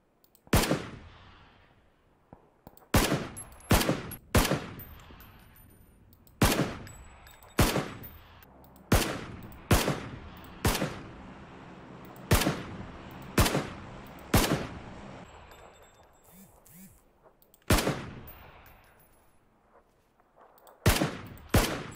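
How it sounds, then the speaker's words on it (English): Rapid bursts of in-game gunfire from the shooter PUBG, sharp loud shots repeating irregularly over about twenty seconds, some clustered and others spaced apart, with no talk over them. "Some awful shooting on now."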